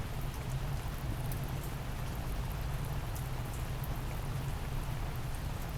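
Steady rain falls outdoors in a dense, even hiss of drops with a low patter underneath, constant and fairly soft throughout, with no voices.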